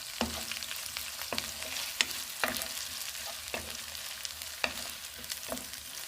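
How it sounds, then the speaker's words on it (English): Keto noodles and scrambled egg sizzle in a pan during stir-frying, a steady frying hiss broken by repeated sharp clicks of the utensil against the pan, fairly quiet and without voices. "I'm going to add all my noodles to it and stir fry it very well"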